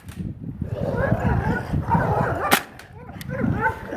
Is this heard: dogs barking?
yes